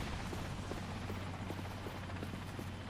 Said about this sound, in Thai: เฮลิคอปเตอร์เรายังอยู่นะฮะ